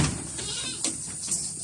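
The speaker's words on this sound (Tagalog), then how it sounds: "dito naman tayo sa ating mga kambing" Goats bleat on a farm, among them native goats, a breeding buck and full-blood red Boer stock. The calls are moderately close and repeat several times over a steady outdoor background.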